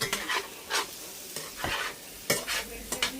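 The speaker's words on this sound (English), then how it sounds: "they are now frying in some butter" Onions fry in butter in a pan, with a steady low sizzle and repeated scraping and stirring strokes, close up and with no talking.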